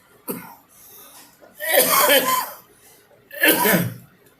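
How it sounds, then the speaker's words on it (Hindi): A man coughs hard several times, starting with one short cough and then two longer, rough bursts of coughing at close range, in a quiet room. "खांसी बहुत आ रही है"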